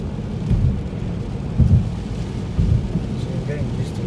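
Rain falls on a car during a driving lesson, a steady wash of rain over a deep rumbling road and engine noise, with a few louder low thumps and no clear talk.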